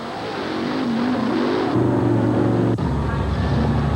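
Monster truck engines roar at a 1988 TNT Monster Truck Racing show in the St. Paul Civic Center arena, deep revving rising and holding loud before shifting to a low rumble, with an announcer talking over them.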